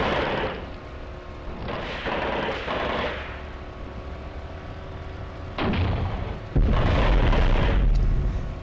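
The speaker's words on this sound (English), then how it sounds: "our man here is tracking that tank just fired in the dust" Tank cannon fire in the war game Graviteam Tactics: Operation Victory, heavy booms and rumbling blasts, with a loud, close burst near the end over continuous battlefield noise.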